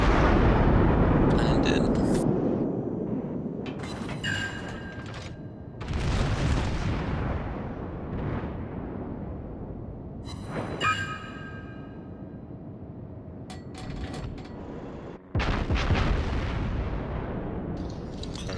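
Naval gunfire in World of Warships, at tier 9 and 10, brings heavy booming salvos that roll on with long rumbling decay, repeated several times, while someone talks briefly.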